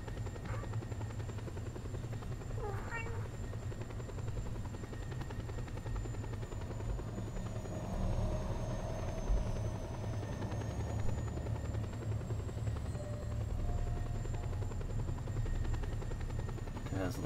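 Helicopter flying in the video game Just Cause, a continuous close rotor drone holding steady throughout with a slight swell midway, under faint talk.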